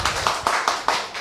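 Audience at a live podcast recording clapping in unison, five or six loud, evenly spaced claps at a brisk rhythm, close and clear with no talk over them.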